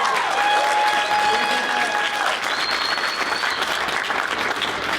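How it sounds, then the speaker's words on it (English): Wedding guests applaud the bride during a best man speech, a full, sustained burst of clapping with a few whoops and cheers rising over it, no talk. "Round of applause for your beautiful bride."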